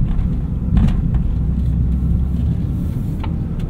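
A 2010 BMW 128i coupe, a light, short-wheelbase rear-wheel-drive car with an automatic gearbox, on a test drive, giving a steady loud low engine and road rumble with a slight swell near the start and no talk.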